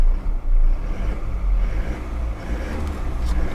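A Toyota Hilux Revo 2.4 pickup truck's engine idles low and rumbling, then revs up in a couple of swells before settling, steady and close.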